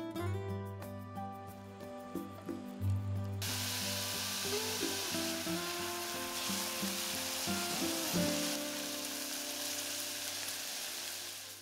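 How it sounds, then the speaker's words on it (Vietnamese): Minced shallots and garlic frying in a tablespoon of oil in a pot, a continuous close sizzle with stirring clatter, louder and brighter after the first few seconds. "Cho vào nồi 1 muỗng canh dầu, cho 1 muỗng canh hành tỏi băm vào phi thơm."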